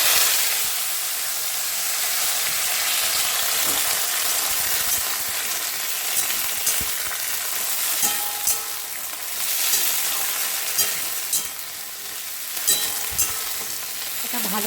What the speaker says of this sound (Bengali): এই অবস্থায় আমি গ্যাসটা সিম করে দিয়ে সবজিগুলো সব ঢেলে দেব।